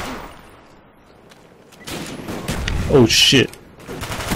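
Rapid gunfire crackles through a Black Ops video game gunfight, with bursts building louder toward the end while someone talks and swears over it.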